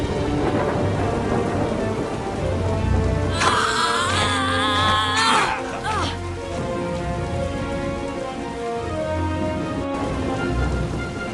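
An animated dinosaur film's storm scene brings steady, heavy rain with low thunder rumbling beneath it throughout, and a brief shrill, wavering cry cuts in over the downpour partway through.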